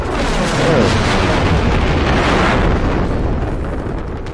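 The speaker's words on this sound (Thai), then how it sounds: "ระเบิดลูกน้องตัวเอง" A loud, sustained explosion in Generation Zero, a thick roaring boom that fills several seconds before slowly easing off.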